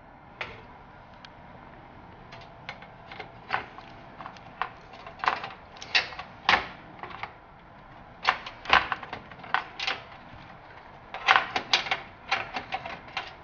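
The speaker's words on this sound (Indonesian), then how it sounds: "langsung aja kita pasang motherboardnya." A PC motherboard is set into a computer case, producing scattered light clicks, taps and metallic knocks of hardware being positioned, irregular and close, with no talking.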